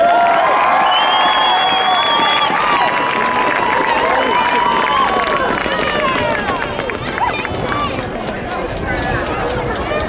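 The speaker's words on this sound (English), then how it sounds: "Give all these young students a big cheer." A large crowd in the stands of a school track cheers for young students at a family night event. Loud shouts, whistles and children's voices blend into a dense, sustained roar with some speech mixed in.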